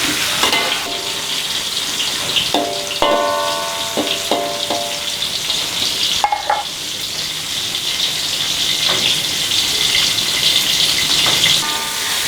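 Tomato frying in a pan for sambal, with a loud, continuous sizzle close up and intermittent scraping and clinks of a utensil as it is stirred, and no talk.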